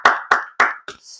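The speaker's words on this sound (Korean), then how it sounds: "우리 하나님께 감사와 영광의 박수를 올려드립니다." Church congregation applause during a Sunday worship service, made up of four distinct sharp claps in a quick even rhythm, loud and close, the last one softer.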